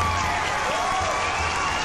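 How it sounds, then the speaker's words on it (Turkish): Crowd applause with some cheering, dense and steady throughout, fairly loud and continuous with no gaps, heard during a Turkish-language GTA 5 mods stream. "Alkışlıyorum."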